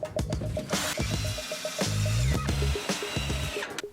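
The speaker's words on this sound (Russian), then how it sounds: "Доски также закрепили саморезами через брусок к полу 2-го этажа" A power screwdriver drives self-tapping screws through a wooden batten into boards on a second-floor floor, with repeated whirring bursts, motor pitch sagging under load, close and loud, with no speech.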